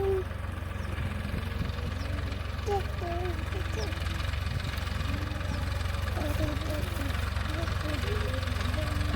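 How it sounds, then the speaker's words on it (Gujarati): A tractor engine runs steadily on a farm, a continuous low rumbling idle that holds the same level throughout, with faint scattered sounds above it. "અને પછી અમે ટ્રેક્ટર હાંકવા માંડી અને ટ્રેક્ટર ચાલુ કર્યું."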